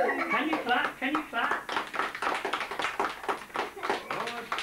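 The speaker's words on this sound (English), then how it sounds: "Can you clap?" Small children clap their hands in a quick, uneven patter of soft taps, close by, with chatter and voices running over the claps throughout.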